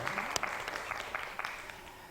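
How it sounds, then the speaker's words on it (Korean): Applause from an audience at a customer-satisfaction management lecture, a dense, moderately faint patter of many hands lasting a couple of seconds. "박수 보내주시죠"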